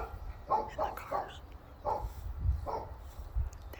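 Dogs barking at a distance in a backyard, several irregular barks and yips spread across the clip, faint and muffled over low traffic rumble.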